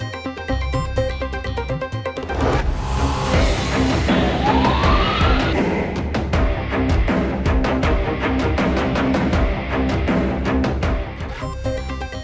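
An ambulance siren on a Lahore street rises and wails over a dense bed of broadcast music and traffic, loud and continuous across the stretch.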